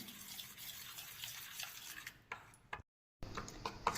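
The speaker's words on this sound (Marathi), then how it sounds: "हे आता एकसारखं असं हलवून घ्यायचं आहे." Spoon stirring a small batter of ghee, one spoon of cornflour and two spoons of maida for bakery-style khari, a soft continuous scraping with a brief silent gap near the end, then resuming; no talking.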